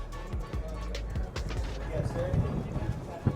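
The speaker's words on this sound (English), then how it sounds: "apologies for the wind noise." Gusty wind buffeting a microphone outdoors at the ConExpo construction equipment show, a low rumbling roar that swells and thumps throughout, with faint clattering sounds underneath.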